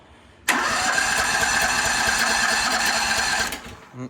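An AGT KTT23 mini tractor's engine cranks and catches abruptly, running steadily and loud at close range for about three seconds before cutting out and fading.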